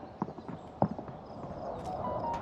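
Footsteps in Call of Duty Warzone on PS5, a quick run of soft thudding steps with a few sharper knocks, fairly faint against a low game ambience that swells slightly toward the end.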